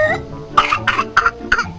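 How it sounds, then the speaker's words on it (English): A voice performs a whooping-cough fit, acting as the disease pertussis: four loud, harsh cough bursts come in a quick, rhythmic run after a short vocal lead-in. "most folks call me Whoopin' Cough"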